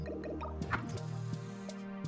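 A character in the video game Terraria falls into water, giving a short liquid splash and gurgle over steady game music.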